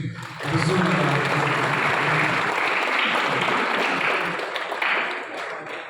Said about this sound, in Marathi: जोरदार टाळ्या फॉर द डायरेक्टर अभिजित फणसेजी